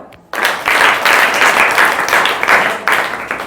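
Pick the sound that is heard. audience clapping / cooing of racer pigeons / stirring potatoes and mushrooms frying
audience clapping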